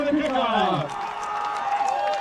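Crowd noise at a Dickinson State versus Mayville State college football game at Jerome Field, a brief burst of cheering and shouting close by, with voices rising above the crowd.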